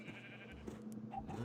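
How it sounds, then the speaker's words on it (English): Sheep bleating in a video game, a faint short bleat with a couple of fainter animal sounds around it. "So many sheeps."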